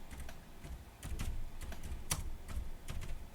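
Fingers type on a computer keyboard in steady, close clicks, a short run of keystrokes with no talk.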